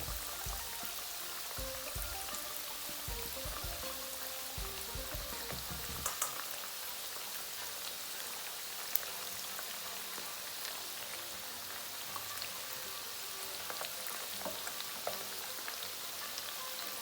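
Prawns frying in hot oil for crispy salt and pepper shrimp, a dense steady crackling sizzle like rain on a surface, holding evenly throughout with a few louder pops and no talk.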